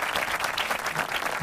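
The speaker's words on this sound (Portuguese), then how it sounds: "deixa eu ligar as palmas aqui" Canned applause cue set off by a host during a design-leadership talk show, a dense burst of clapping and light crowd noise lasting about a second and a half, steady and close.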